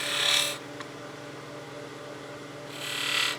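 A 3/8 spindle gouge makes a bevel-riding cut on a wood lathe, giving a bright hissing shave of wood in two short bursts separated by a quieter stretch of motor hum.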